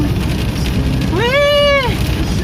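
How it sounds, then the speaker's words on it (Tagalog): Heavy rain on the Marilaque road makes a dense, continuous hiss, with a brief rising-and-falling voiced exclamation heard over it partway through. "Grabe, ang lakas ng ulan."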